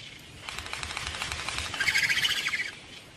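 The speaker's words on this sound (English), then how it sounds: "High above the reef, frigate birds and gannets hunt for fish that they scoop from the water or steal from each other." Frigate birds and gannets flying high over the Great Barrier Reef, with a faint, rhythmic fluttering of wings and soft chirps that build and pulse for a few seconds, no voices.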